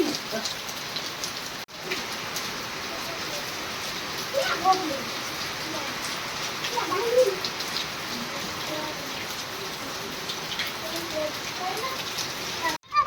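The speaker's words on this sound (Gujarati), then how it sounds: "બહાટી વરસાદ આવ્યો ને એમાં પછી બધે પાણી પડે હો" Heavy rain pours steadily over a village home where a buffalo is kept, a dense continuous hiss of water on surfaces with occasional gusty swells and faint birds cooing in the background.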